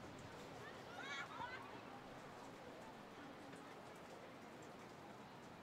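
Rain pours over a football pitch during a women's cup final between PSV and FC Twente, a soft continuous hiss at low level, with brief faint sounds near the start and no clear talk.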